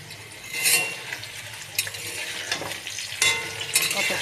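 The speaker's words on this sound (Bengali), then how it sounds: "ঢেকে ঢেকে এঁচোড়টাকে ভাজা করব সুন্দর করে।" Jackfruit fries in a covered pan with a steady crackling sizzle, broken by several clattering scrapes of a utensil stirring against the pan, close and moderately loud.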